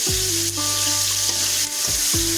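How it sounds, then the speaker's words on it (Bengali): Chopped prawns, about 100 grams, frying in a kadai give a steady, close hiss with scraping stir sounds, loud and continuous throughout. "এখন আমরা কড়াইয়ের উপর যোগ করে দিচ্ছি 100 গ্রাম কুচিয়ে রাখা চিংড়ি মাছ।"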